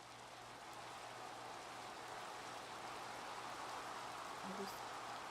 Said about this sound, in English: oh, it's raining in Minecraft.